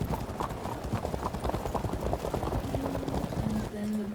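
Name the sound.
horse archers' hooves clip-clopping, Field of Glory 2 video game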